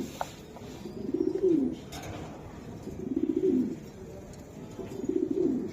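A black Budapest pigeon coos in three evenly spaced, rolling calls, each rising and falling, heard up close against a quiet background.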